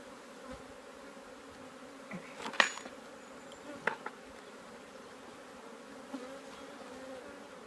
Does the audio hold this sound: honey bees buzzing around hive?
yes